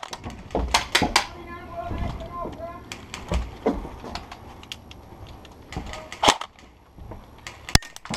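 Airsoft guns fire during a softair game at Sant'Andrea, giving sharp snapping shots scattered irregularly, some in quick pairs, with a loud crack near the end. Voices talk between the shots.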